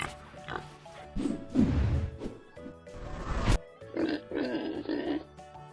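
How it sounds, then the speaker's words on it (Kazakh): A pig grunts and oinks in a series of short, low, rough bursts, fairly close and loud, with brief pauses between the calls. "Доңыз."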